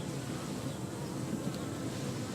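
Honey bees buzz in an open beehive during the first week, a dense, continuous droning hum from many insects close by, steady throughout with no voices.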